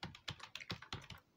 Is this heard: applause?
no